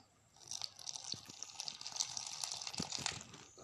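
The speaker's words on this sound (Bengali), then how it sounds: "একটু জল দিয়ে এটা কি ভালো করে মিক্সড করে নেব" Water is poured into a mixture of chili powder for aloo chop batter, a faint trickle and splashing with light mixing sounds, quiet and close, with no voices.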